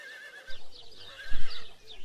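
A horse whinnies in several bright, wavering calls, with a few dull low thumps like hooves partway through, close and clear without any talking.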